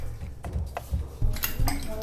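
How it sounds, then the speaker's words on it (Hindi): A spoon stirs milk custard in a pan, giving soft scraping and clinking metal-on-pan contacts in irregular strokes, fairly close, with a quieter background murmur. "इसको हल्के हल्के हम हिलाते रहेंगे।"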